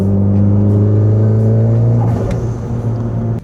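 A Mitsubishi Lancer Evolution X FQ-440 MR engine revs loud and close from inside the car, a strong steady drone that swells then eases slightly, with no talking.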